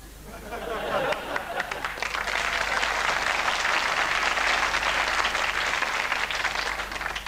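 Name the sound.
audience applause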